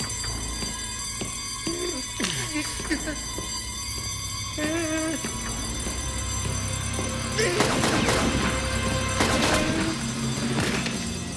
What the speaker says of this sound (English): And turn off that blasted alarm!